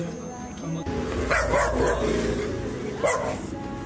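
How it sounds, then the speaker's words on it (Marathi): A dog barks in short bursts over steady background chatter and room noise, with a final bark near the end. "अनुरागचा कुत्रा माझ्या भूकत"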